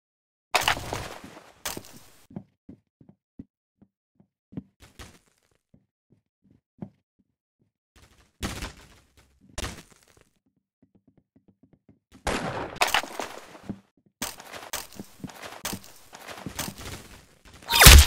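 Video game gunfire in a free-for-all match: scattered loud, sharp shots and short bursts separated by quiet stretches, with faint clicks between them.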